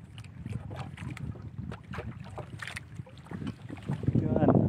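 A fishing boat's engine runs at sea, a low rumbling drone mixed with wind buffeting and water splashing, growing louder toward the end.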